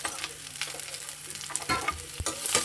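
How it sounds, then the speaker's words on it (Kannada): Onion, garlic and cumin seeds sauté in a pan for curd tadka, a steady sizzle with scraping stirs and a few sharper spatula knocks, close and alone. "ಸ್ವಲ್ಪ ಎಲ್ಲ ಬಾಡಿಸ್ಕೋಬೇಕು."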